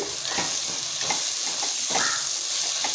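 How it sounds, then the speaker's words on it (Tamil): Chicken biryani base with garam masala sautéing in hot oil in a pot, a steady close sizzle with soft periodic stirring scrapes roughly every second, no voices. "இந்த எண்ணெயில் லேசாக ஒரு வதக்கு வதக்கிட்டு"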